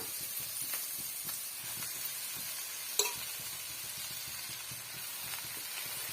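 Washed greens tossed into a pan of sautéed onions, setting off a steady wet sizzle and hiss with stirring scrapes throughout and a sharp clack of a utensil midway.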